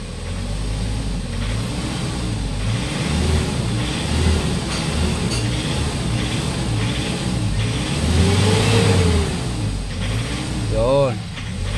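A 2010 Hyundai Starex engine revving repeatedly, its rough, steady low drone rising and falling in waves with a knocking roughness under the revs, recorded close up without talk.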